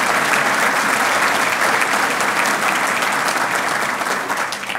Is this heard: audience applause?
yes